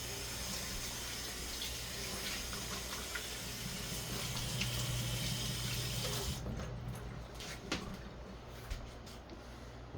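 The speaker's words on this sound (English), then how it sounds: "Now I'm going to wash my hands." Tap water runs steadily into a kitchen sink while hands are washed under it, a continuous hiss and splash that changes tone partway through, close and alone with no talking.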